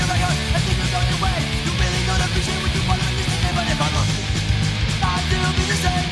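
Loud, dense youth crew New York hardcore punk music with fast driving drums, distorted guitars and shouted vocals, playing continuously throughout.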